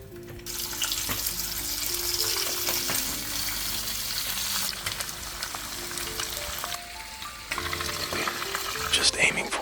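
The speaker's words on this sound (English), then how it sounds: "Gently place the chicken in the hot oil." Steady hiss and crackle of chicken frying in hot oil, continuous and fairly loud, with faint clinks and shifts partway through.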